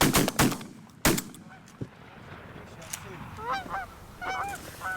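Canada geese honking during a goose hunt, several calls rising over open ground after a few sharp shotgun blasts, with faint voices in the background.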